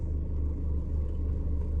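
Low, steady engine rumble and tyre hum come from a Mercedes Sprinter van rolling slowly around a car park, heard close from inside the cab with no talking.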